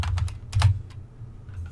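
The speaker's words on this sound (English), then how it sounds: "So I'm just going to type canvas" Several quick keystrokes on a computer keyboard, typing a short word in bursts of clicks, close and fairly loud with no talking.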